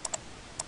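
Two pairs of quick computer keyboard key presses while working in ArtCAM software, faint close clicks separated by a short pause in an otherwise quiet room.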